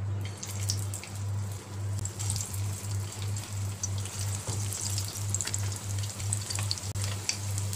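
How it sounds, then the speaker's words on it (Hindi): Soya chunk kababs shallow fry in hot oil with a continuous soft sizzle and crackle, backed by a pulsing low hum and a few faint pops. "अब हम इनको फ्राई कर लेंगे"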